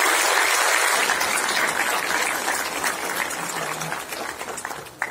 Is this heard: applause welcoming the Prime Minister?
yes